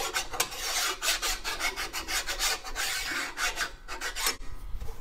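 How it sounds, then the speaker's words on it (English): Old gasket residue filed off the flat mating surface of a 1929 Ford Model A engine part with a flat file, a fast run of harsh rasping strokes, close and continuous, with no talk. "Take a nice flat file. Since I know I've got a nice flat surface, I'm going to hit everything. Make sure there's no of the old gasket left over."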